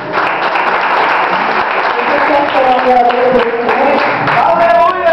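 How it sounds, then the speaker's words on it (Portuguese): A church congregation applauds during an evening worship service, steady clapping filling the space while a voice talks and sings over it. "E as palmas para ti,"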